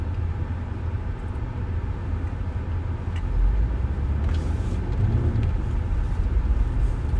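Slow-moving road traffic on a snowy March morning in Ankeny, with cars and 4-wheel drives rolling by as a steady low rumble that swells slightly midway, fairly close and with no talk.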